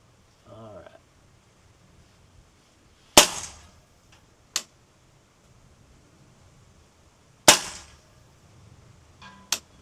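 Two sharp, loud reports from a suppressed rifle, each followed a moment later by a faint impact on a distant target, with a short voice before the first shot.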